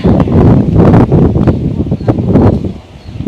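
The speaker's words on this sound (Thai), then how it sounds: "ลมมาแล้วนะครับ ลมมาแล้ว" Strong gusts of wind ahead of a heavy rainstorm roar through trees, including a mango tree, with leaves rustling loudly and steadily throughout.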